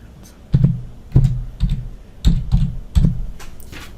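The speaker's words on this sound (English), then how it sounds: "you can type in your order numbers up here" Bursts of clattering computer keyboard keystrokes, a handful of quick clusters spaced about half a second apart as order numbers are typed into an ordering website search box, close and clear.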